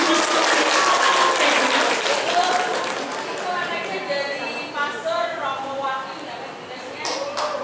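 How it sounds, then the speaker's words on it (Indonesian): Applause from a gathering at a church community event, a dense burst of clapping that fades and thins out while a voice talks over it and other people chatter underneath. "Ibu tepuk tangan untuk Ibu yang sudah bersiap"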